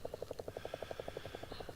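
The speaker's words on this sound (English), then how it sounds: "Oh, we've got a friendly helicopter there." A friendly helicopter in the DCS flight simulator, heard from an F-5E cockpit, thuds with a quick, steady rotor chop, about ten beats a second, faint and at a distance.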